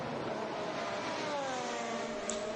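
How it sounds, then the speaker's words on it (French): A Ferrari Formula 1 car at the 2021 Spanish Grand Prix first practice session, its engine a steady high-pitched whine held at a constant, fairly distant tone. "Franck Montagny, on écoute le moteur avec vous"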